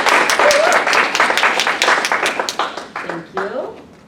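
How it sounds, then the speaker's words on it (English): Audience applause after a speaker introduces a talk on comics translation, a dense burst of many hands clapping that fills the room, then thins and tapers off, with a voice speaking briefly near the end. "Please give me a round of applause."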